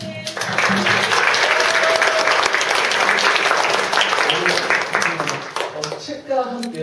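A large indoor audience at a Korean gathering applauds loudly and steadily for several seconds. The clapping fades near the end as a voice begins to speak.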